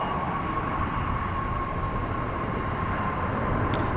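Boeing 777-200 airliner at Dallas Fort Worth Airport, a steady, loud broadband roar with a faint high whine, sustained throughout without any talking.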